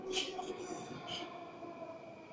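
A Moscow metro train arrives at the station, with bright wheel squeals at the start over a steady rail rumble that lingers at moderate volume.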